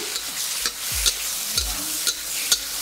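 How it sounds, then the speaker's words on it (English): Shiitake mushrooms sizzle loudly in a hot wok while a spatula scrapes and clanks against the metal in quick, repeated stirring strokes. "We'll stir fry for 30 to 40 seconds, then add some cooking wine."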